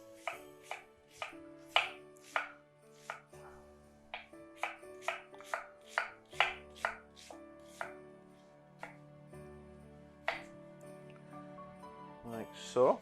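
A knife cutting half a large onion on a board in a home kitchen, making a steady series of crisp, close chops about every half second, with a few faint pitched tones in the background.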